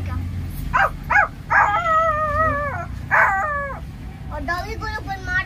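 A young boy imitates a dog with his voice, giving a few short barks followed by long wavering howls and whimpers, loud and close, with a busy crowd murmuring underneath.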